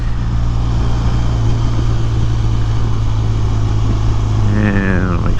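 BMW R1200RT motorcycle riding through town, its engine a steady, loud low drone throughout with wind rush, and a brief rising tone near the end.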